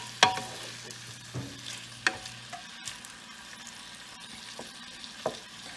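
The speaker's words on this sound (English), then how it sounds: "it's just now starting to sizzle a little bit" Chicken pieces fry in a jambalaya pot with a soft, steady sizzle, punctuated by several sharp scrapes and clinks of stirring at irregular intervals, close and fairly quiet with no talking.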